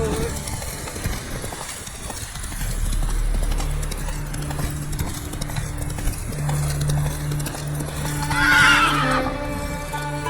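In The Witcher 3, the horse Roach gallops with a steady, close hoof rhythm and lets out a loud neigh near the end, with game music and ambient sound beneath.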